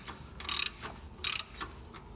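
A ratchet makes two quick bursts of clicks while tightening an alternator tensioner on a DeLorean. Each burst is a short run of close, crisp clicks, and softer handling noises fall in the pauses between them.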